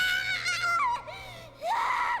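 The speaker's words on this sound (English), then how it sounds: "And then we pull way out for the big scream." An anime girl's big, shrill scream from Made in Abyss, a loud wavering cry that breaks into a second rising wail after a short pause, sharp and close.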